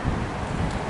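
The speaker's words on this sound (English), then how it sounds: "It's super windy here today." Strong wind roars and buffets the microphone in a loud, continuous rumble over one second.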